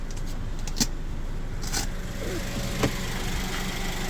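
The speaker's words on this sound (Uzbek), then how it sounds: "motorlari ham sodda ishlab turibdi" A 2022 Kia Bongo idles with its hood open, the engine holding a steady, even low hum while a few sharp clicks and knocks break in nearby, with no speech.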